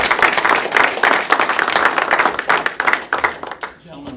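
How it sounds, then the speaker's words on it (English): A crowd at a school board meeting claps loudly and steadily for several seconds, the dense applause tapering off at the end. "Let's give these guys a round of applause"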